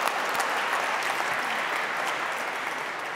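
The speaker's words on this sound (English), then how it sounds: "So a warm applause for Karen is absolutely required." Warm applause from a festival plenary audience, continuous dense clapping at a steady level for a few seconds.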